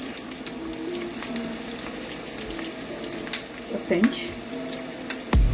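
Onion fries in oil in a pan with a steady, dense sizzle throughout, close by, with a few stirring clatters near the end and a brief spoken remark over it.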